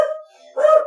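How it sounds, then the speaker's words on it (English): A dog barks at a delivery arriving at home, giving two short indoor barks close by: one at the start and a louder, rougher one after a brief pause. "What is Sassy barking at? Oh, delivery"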